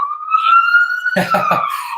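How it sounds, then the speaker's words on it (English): An emergency vehicle siren, police or ambulance, wails outside near a hospital, a steady loud tone with a person talking over it partway through. "Is that the police coming to your place again?"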